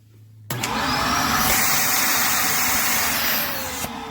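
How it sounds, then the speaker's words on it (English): Shark LA702 Rotator Pet Lift-Away upright vacuum with a faulty hose switches on abruptly and roars loudly and steadily, carrying an odd rising whine before cutting off near the end. "it came down to this hose, and it started causing this noise."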